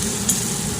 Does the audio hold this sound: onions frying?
yes